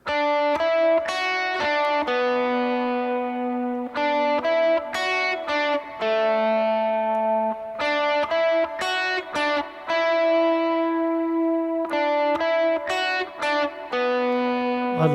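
An electric guitar lead line for a worship song, played with drive, reverb and delay, a clear sequence of sustained, ringing notes in phrases with echoing tails and short gaps between them, no voices.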